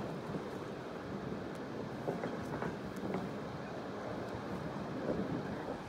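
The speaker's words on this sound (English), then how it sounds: "It sounds like the wind, but it's actually the waves hitting the ice there" Waves washing against candled ice on the Yellowknife River, a steady, wind-like hiss and rumble with faint clinking ticks scattered through it, fairly quiet and continuous with no voices.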